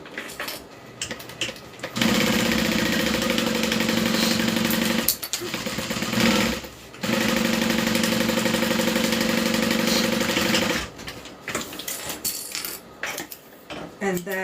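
Sewing machine running in long steady bursts as it stitches pieces of a Kiana bag together, with a brief pause midway and quieter handling sounds at the start and end.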